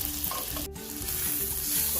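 Vegetables seasoned with salt are tossed and stirred in a hot frying pan, giving a continuous close sizzle with a brief scraping clatter in the middle.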